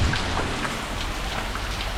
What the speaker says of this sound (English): Thunderstorms have hit.